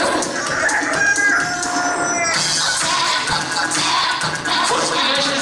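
Human voices imitate a chicken, loud clucking and crowing-like vocal sounds stretching continuously and overlapping one another.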